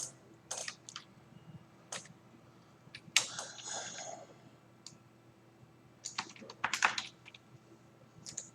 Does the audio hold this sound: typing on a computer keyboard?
yes